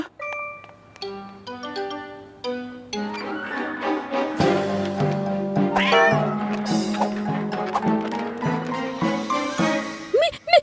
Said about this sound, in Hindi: मीला बिल्ली को बचाओ